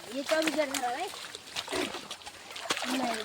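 A large turtle caught during village crab hunting is let go into water, making a few short splashes and sloshes beneath near, continuous chatter from several people.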